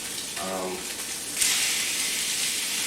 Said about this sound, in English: Technically, this is the right way to sear, and so we will do it that way.